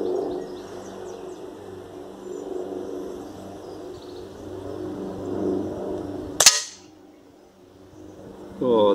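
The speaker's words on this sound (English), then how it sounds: "Right, I'm going to shoot the dot bottom left now." An air rifle fires one sharp, loud shot at a target, a single crack that cuts through a quiet outdoor background with birds cooing and chirping nearby.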